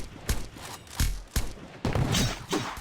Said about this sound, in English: I'll put out my rocket launcher to kill these guys even faster.